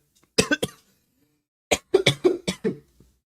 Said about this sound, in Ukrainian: Я буду чихати. І я буду кашлять.